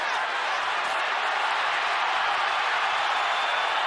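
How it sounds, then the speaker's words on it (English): Ringside boxing crowd roaring in a steady, dense wash of cheering and noise, loud and sustained without a break. "And he woke the crowd up."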